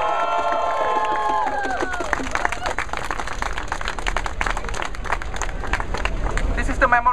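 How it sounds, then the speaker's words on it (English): A crowd at a Bersih 2.0 electoral-reform rally in London breaks into loud, sustained applause and cheering, a dense rapid clatter of many hands that follows a voice over a loudspeaker. "Big clap, guys!"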